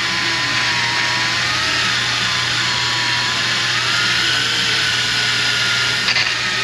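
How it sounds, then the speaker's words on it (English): A handheld drill spins sandpaper wrapped around a small shaft, smoothing burrs off a damaged Turbo Cruiser 2.4 cylinder head. It makes a steady, close, continuous whir with a sanding hiss for the whole stretch and no talk. "It's basically some sandpaper wrapped around this little shaft right here, connected to a drill."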